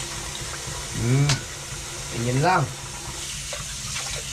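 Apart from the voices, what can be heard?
water running from a tap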